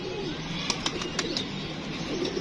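A pigeon held in hand coos softly amid outdoor background noise, with a few faint wing flutters or taps, quiet and close.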